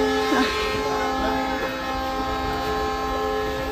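A passenger train is heard as a loud, steady mechanical drone with sustained tonal whine and rolling rumble, continuous and close, with no voices.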